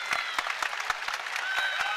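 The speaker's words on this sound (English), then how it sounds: "Crowd getting behind him." A crowd at an NCAA men's volleyball match between BYU and UCLA claps and cheers steadily for a server about to serve, with rapid, dense clapping close and continuous throughout.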